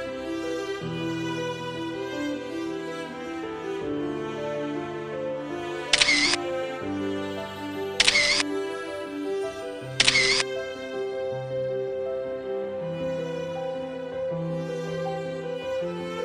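Three crisp camera shutter clicks, evenly spaced about two seconds apart, snap out clearly over steady background music while photos are taken near Alice Lake Campground.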